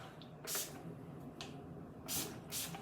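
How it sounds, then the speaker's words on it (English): Several short, breathy hisses come from a pump bottle of makeup finishing spray misted onto a face. Two isolated puffs are followed by a pair in quick succession, all close and fairly quiet against a soft room hum. "I'm going to spray some finishing spray"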